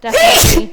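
A single loud sneeze bursts out close by, a sharp vocal blast lasting well under a second, with a brief spoken word caught alongside it.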